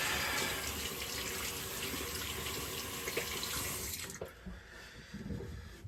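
Tap water runs steadily into a sink as hands are rinsed during wet-shave prep, a loud, continuous splashing rush that stops abruptly near the end, leaving faint trickles and small knocks.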